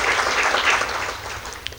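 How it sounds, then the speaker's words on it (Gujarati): An audience at a Gujarati motivational talk breaks into loud, dense applause that fills the space close by and then slowly eases off toward the end. "અને જોરદાર તાળીથી વધારે"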